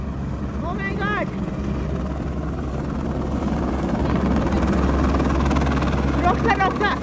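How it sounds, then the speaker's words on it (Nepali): A helicopter flies with a loud constant rotor and engine roar throughout, heard from close by, while people talk excitedly over it near the start and end. "यसरी हेलिकप्टरमा घुम्न पाइन्छ"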